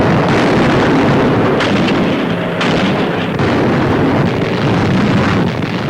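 Heavy 1,000-pound bombs burst on channel-port docks and installations in a 1942 WWII air raid, a dense, loud, continuous roar of booming rumble with no pauses.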